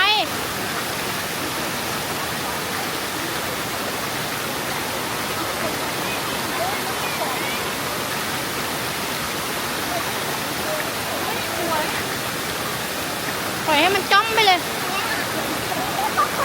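Thep Phana waterfall in Chaiyaphum pours in a loud, unbroken broadband rush of falling water close by, steady throughout, with brief voices talking over it near the end.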